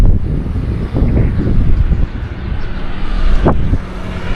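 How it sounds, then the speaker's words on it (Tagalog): Strong sea wind buffeting the microphone near the shore, a continuous low rumbling roar with gusts rising and falling throughout. "Sarap po ng hangin."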